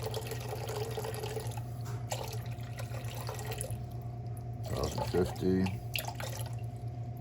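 Spring water poured into a container on a scale for sourdough, a steady close trickle and splash under a low hum, with a man counting the weight aloud.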